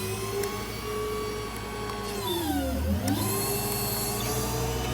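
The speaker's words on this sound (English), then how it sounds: "Crane operates flawlessly. All the functions work. Super quick operation." IMT 6000 crane on a 2015 Ford F-550 with a V10 running its functions: a loud, steady hydraulic whine and hum that dips in pitch midway and then recovers, continuous throughout.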